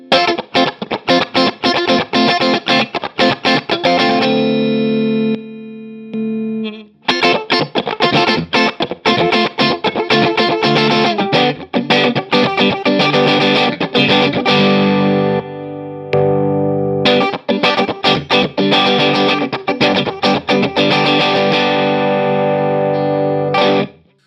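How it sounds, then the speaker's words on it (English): Electric guitar through Harley Benton compressor pedals pushing the amp into slight overdrive, a compressed tone playing chords and riffs, loud and close, with brief pauses between phrases. "Both of the pedals at this point are also pushing the amp into slight overdrive."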